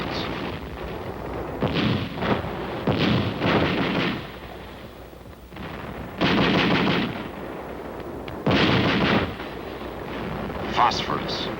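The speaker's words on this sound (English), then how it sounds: "Grenades." Korean War combat footage with grenades exploding and gunfire, heavy booming blasts arriving in loud separated bursts with rattling shots and a narrating voice in between.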